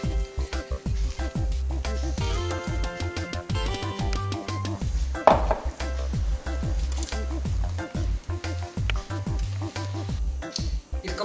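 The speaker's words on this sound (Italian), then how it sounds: "Quando si inserisce il burro si può andare anche un po' più veloci a mescolare" Sponge cake batter with butter mixed in, stirred and beaten at a brisk pace; continuous soft squishing and slapping of the thick batter, steady and close, with no pauses.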